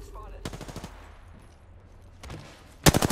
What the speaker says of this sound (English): That's one shot.